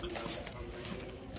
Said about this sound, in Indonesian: Burung itu.